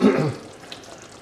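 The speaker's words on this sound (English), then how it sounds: "Just going to give this a slight stir." Curry sauce for a Scottish-style chicken chasni is stirred in a pan, giving a short, close scrape and slosh at the start that fades into a faint, steady background sizzle.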